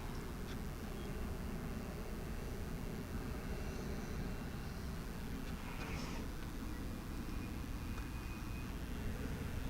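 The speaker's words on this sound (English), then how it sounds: "Get kind of a final look at the 3-engined aircraft as it taxis past Terminal B" A three-engined aircraft taxis past Terminal B at DFW Airport at night, heard as a faint, steady, distant jet whine and broadband roar that stays even throughout with no distinct events.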